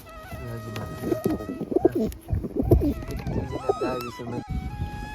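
Pigeons, including a red one, cooing close by in a series of soft throaty warbles, with faint buzzing and a voice talking quietly underneath.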